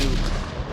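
A grenade explodes in the VR shooter Onward during a competitive VRML league match, a single loud, close, booming blast.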